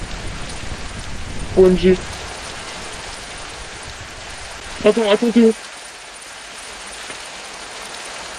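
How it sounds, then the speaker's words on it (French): Steady rain from a thunderstorm in Minecraft hisses evenly throughout, while voices speak over it in two brief bursts. "Oh, ah non, il y a un orage."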